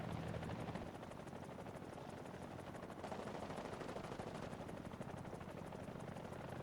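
Rapid gunfire and a helicopter's steady rotor drone in the War Thunder combat game, a dense continuous roar of shots and engine noise holding at the same level throughout with no speech.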